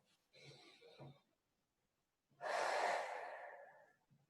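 Slow, deep breaths during a guided meditation: a soft inhale, a pause of near silence, then a long audible exhale, close and quiet with no talk over it.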